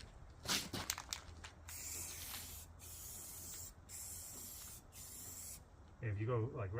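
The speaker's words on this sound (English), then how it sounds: "I'll give you a live comparison of just a regular spray bomb can" A regular spray paint can sprays the bottom of a 1955 Chevy's quarter panel in several short hissing bursts separated by brief pauses, close and fairly loud, followed by a short voice at the end.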